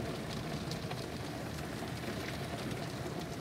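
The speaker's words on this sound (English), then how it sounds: "We're in the heavy rain." Heavy rain pounds a moving car during a severe-weather day, a loud, constant roar of drops and road spray mixed with engine and tire rumble, with no voices.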